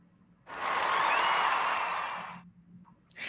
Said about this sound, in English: This is an applause moment.